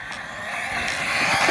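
An overpowered RC car runs at full throttle on a dirt bike track, its electric drive giving a loud, continuous whining roar that builds slightly over a brief moment.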